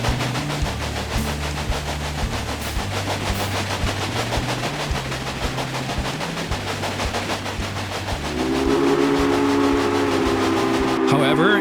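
Steady mechanical rumble of a steam train in the video game Railway Empire, with a sustained whistle-like tone rising in the last few seconds; continuous and fairly loud.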